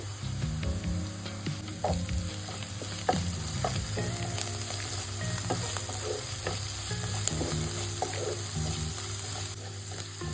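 Onions with finely chopped coriander fry in a pan, a steady close sizzle with frequent spatula scrapes and knocks throughout, a low hum underneath and nobody speaking.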